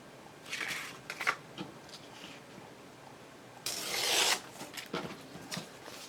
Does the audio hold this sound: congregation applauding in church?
no